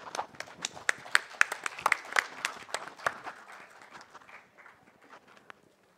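Festival audience at the Jaipur Literature Festival breaks into applause to welcome a panel, a burst of sharp claps that gradually thins and fades out.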